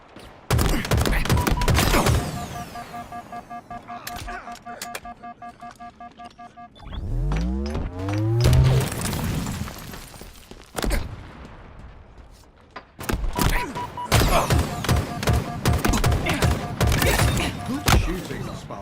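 Gunfire in a Halo video game: bursts of rapid automatic shots and sharp single reports, some near and loud, broken by a sweeping whoosh and rumble, with game voice lines and effects in between.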